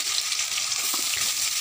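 Bay leaf and spices fry in hot oil for a chicken kulambu curry, giving a steady, close, continuous sizzle with faint stirring underneath.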